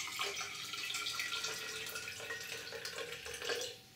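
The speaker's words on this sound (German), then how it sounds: "So, wir gießen also jetzt das unter Druck gesetzte Wasser hier rein." Pressurized tap water pours into a plant container, a continuous broadband splashing and trickling that runs steadily for a few seconds before tapering off at the end.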